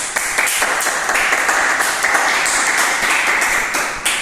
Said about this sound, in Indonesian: Tepuk tangan untuk Atika dulu.